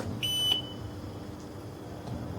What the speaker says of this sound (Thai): แล้วก็เสียงปิ๊บสองครั้งนะ ก็คือเสร็จการตั้งค่า